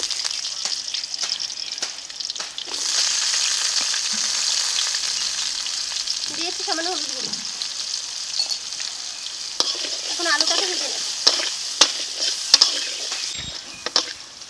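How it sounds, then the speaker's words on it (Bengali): Potatoes and garlic frying in hot oil with radhuni spice, a continuous close sizzle with occasional stirring clatter and a few sharp utensil knocks toward the end. "আলু আর রসুনটাকে যে ভেজে নিয়েছি"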